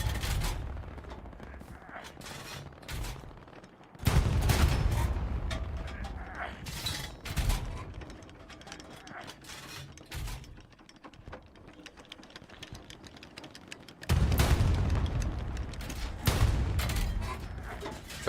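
Gunfire in the World War II shooter Hell Let Loose, sustained distant crackle of rifle and machine-gun fire with louder bursts coming and going over about eighteen seconds, dense and continuous rather than single shots.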